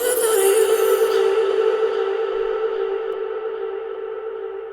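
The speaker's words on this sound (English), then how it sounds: "So here's the first vocal one shot that I used." Ambient vocal one-shot sample from a beat kit for a 2Hollis-style beat: a sustained, breathy tone with bright airy highs fading over a few seconds, alone and fairly loud.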